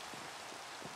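Steady rain in Minecraft hisses softly, a quiet even wash of drops with no voices.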